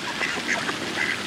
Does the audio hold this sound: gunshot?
no